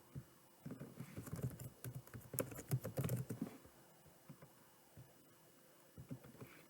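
Fingers type quickly on a computer keyboard into Desmos, a dense run of close, light key clicks followed by a few scattered taps, with no talking.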